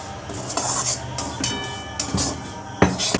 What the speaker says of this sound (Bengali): সুজিটা একটা হালকা কালার আসা অবধি মানে ভেজে নিতে হবে